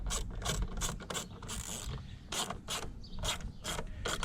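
Small screws being backed out of a Corvette fuse block, heard as quick, close ratcheting clicks and mechanical rattles in short repeated bursts, quiet, with no talking.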